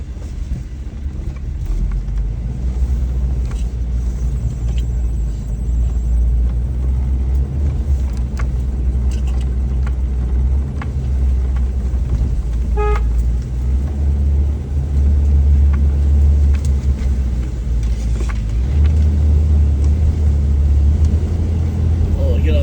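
Car driving across a farm, a steady low engine rumble and road noise from inside the vehicle throughout, with faint voices under it.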